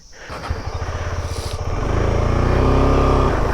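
A motorcycle pulls away from a homestay onto an off-road track on a Sikkim bike trip, its engine pulsing in a steady near thump that swells into a louder, sustained drone as it gathers speed.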